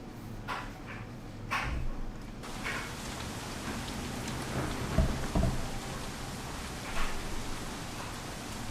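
Steady heavy rain pours down with low rumbles of thunder rolling underneath in the video game Shadowrun Hong Kong, a dense, continuous storm wash with a few louder crackles.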